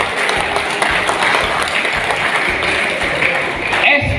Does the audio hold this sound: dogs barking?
no